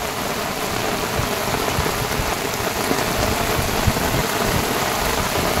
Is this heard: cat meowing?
no